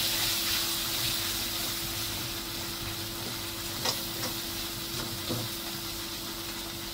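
Malvani masala frying in oil in a pan, a steady loud sizzle throughout with a few soft stirring scrapes, no talking.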